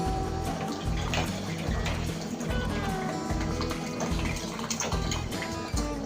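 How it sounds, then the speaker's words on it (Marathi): Cold water pours into a mixer jar holding milk cream for churning butter, a steady liquid splash with rhythmic low clatter running throughout, close and fairly loud. "आता याच्यामध्ये टाकणार आहे थंड पाणी"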